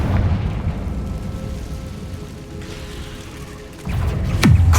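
A Confringo spell blast explodes in Hogwarts Legacy, a booming burst with heavy low rumble amid continuous dense battle noise, followed by a whooshing magical streak near the end.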